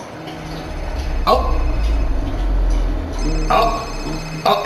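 In a football video game, a phone rings with repeated electronic trills that come in short bursts over a low background hum, while a person talks over it.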